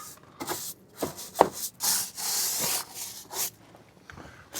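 Mud being scrubbed off the fenders of a Jeep during a detailing job: a series of faint, hissing rubbing swipes, a few seconds each, separated by brief pauses.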